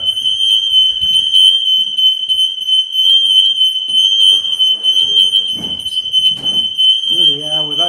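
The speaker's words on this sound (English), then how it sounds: "and set the fire alarms off" Shrill, steady tone of a fire alarm set off by smoke inside a building, sounding loud and unbroken throughout while people talk underneath.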